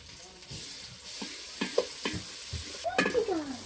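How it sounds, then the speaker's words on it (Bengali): Ginger garlic paste fries with bay leaf and whole spices in a pot for chicken curry and pulao, a quiet sizzle broken by repeated spoon scrapes and taps of stirring, growing busier toward the end. "আদা রসুন বাটা দিয়ে দিলাম"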